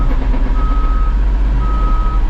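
A truck backing up emits a steady, loud reversing beep repeating over a heavy low engine rumble, close by and with no talking.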